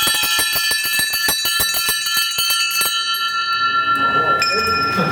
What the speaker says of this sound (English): I've got to ring these bells.